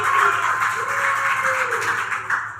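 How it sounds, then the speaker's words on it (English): A crowd applauds the John Marshall High School Monarchs football team, a dense wash of clapping throughout with a voice talking over it. "Let's give them a round of applause"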